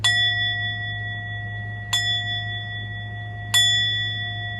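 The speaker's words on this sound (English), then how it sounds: "We're ringing a bell, people." A clear bell rings three times at even intervals, each strike followed by a long shimmering tone that lingers over a low steady hum.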